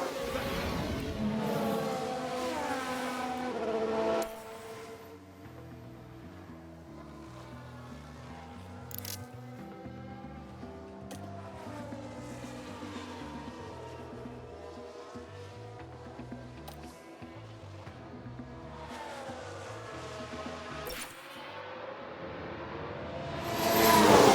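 Racing cars from the F1 Manager game, set in a 1991 season, with an Alfa Romeo crashing alone. Engines whine and shift pitch over nearly half a minute, with tire squeal and a louder rush of sound at the end.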